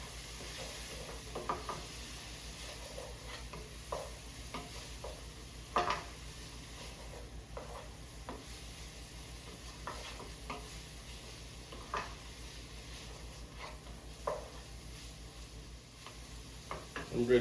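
Onions and mushrooms seasoned with salt and black pepper frying over low heat in a pan, a soft steady sizzle with intermittent stirring clicks and scrapes throughout.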